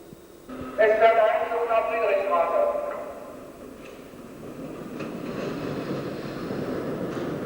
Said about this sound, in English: I hope you appreciated the traction sounds for it